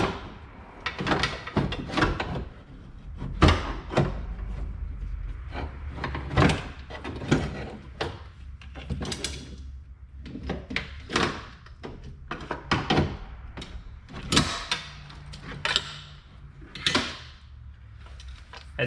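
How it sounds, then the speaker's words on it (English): A window regulator is worked out of the door of a 2015 Chevrolet Cruze, giving a series of close, irregular plastic and metal clunks, scrapes and rattles spread over the whole stretch. "just kind of work your window regulator out of the door"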